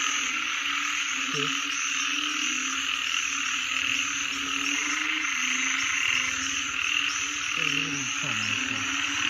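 Frogs croak loudly and continuously in a dense chorus, with repeated close calls rising over a steady insect-like drone.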